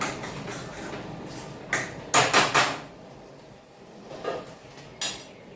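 A lid clatters onto a pan of semolina sheera, several quick metallic clinks bunched together, then a few lighter knocks, close and moderately loud.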